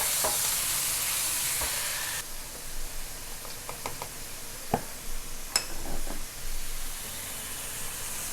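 Onions and tomatoes frying in a pan, a steady hiss of sizzling throughout with scattered scraping and clinking as the mixture is stirred, close up and alone.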